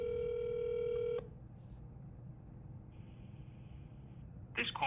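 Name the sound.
phone calling voice AI on speaker, ringing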